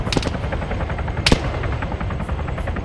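Rapid bursts of gunfire in the video game Arma 3, with one sharp louder shot fired into the air nearby, over a steady mechanical rumble that sounds like a helicopter.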